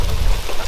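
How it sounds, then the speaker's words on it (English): Hail falls in a dense, loud rattling patter during a tornado, a broad, noisy wash of impacts with no clear gaps. "It's hailing!"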